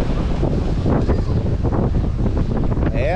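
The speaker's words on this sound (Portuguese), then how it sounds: "Ó a ventaninha" Strong wind buffets the microphone on a beach at Arraial do Cabo, a loud continuous rumbling roar with gusty surges throughout.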